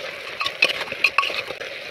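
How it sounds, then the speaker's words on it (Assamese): Pork fries in a pan with coriander powder and green chillies, giving a steady close sizzle broken by brief clinks and scrapes of stirring. "এনেকৈ অলপমান ভাজি ল'ম।"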